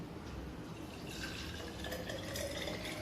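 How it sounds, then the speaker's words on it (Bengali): Panchamrit pours into a freshly washed bottle with a continuous soft trickle and gurgle of liquid, close and moderately quiet, lasting a few seconds without talk. "নতুন বোতল কিনে এনেছি এই বোতলের মধ্যে দিয়ে দেব"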